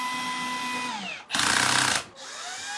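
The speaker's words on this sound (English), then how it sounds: "you can drill your pilot holes." A power drill bores a pilot hole in a wall for a smart blind mounting bracket, a loud steady whine lasting under a second after a fading machine hum, with no talking.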